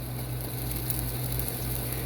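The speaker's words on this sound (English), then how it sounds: "Now you hear that sizzle." Corn sizzling in a pan with zucchini, a steady, close frying hiss that holds at an even level throughout, with no talking.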